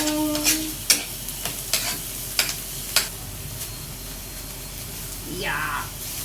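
Sautéed garlic and onions stirred in a pan, a loud steady sizzle with repeated scraping strokes of a utensil and a brief voice near the end.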